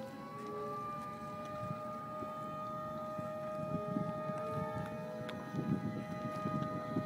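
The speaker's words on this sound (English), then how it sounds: "60 seconds, the siren starts." Civil defense siren sounding during the countdown to a GEM-60 solid rocket motor static test fire, a steady wailing tone with harmonics held over outdoor background noise throughout.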